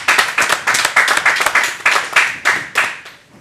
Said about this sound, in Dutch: Dan mogen jullie klappen.